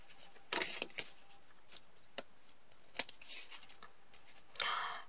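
Quiet, sparse snips of scissors trimming excess glued paper from a handmade card, a few scattered crisp cuts with small rustles between them, close by with no talking.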